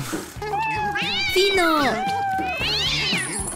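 A cat meows several times, drawn-out rising and falling cries close by, mixed with people talking.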